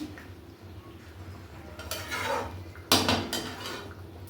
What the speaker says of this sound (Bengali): এবার আমি এর মধ্যে একটু মিট মশলা দিই, মিট মশলাটা একটু মিশিয়ে দিচ্ছি